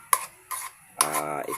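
A utensil stirs eggs and tomatoes in a pan, making three short scraping clacks roughly half a second apart, with a voice talking over the final stroke.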